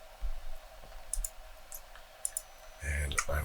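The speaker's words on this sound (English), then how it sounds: "You just hit Control on your keyboard and then left click, and it will start placing points." Sharp mouse clicks from placing spline points for 3D roads in Unreal Engine 5.3, a scattered handful of close, crisp taps, with a denser cluster near the end.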